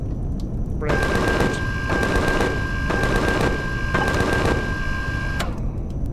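A minigun turret in the space survival game Empyrion fires in sustained bursts of rapid automatic gunfire, loud and close, with short pauses between bursts over a steady mechanical whine.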